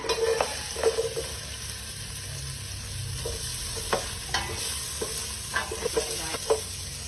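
Onions sautéing in a pan for mung bean stew, a steady sizzle broken by scraping and clinking strokes as a utensil stirs the pan.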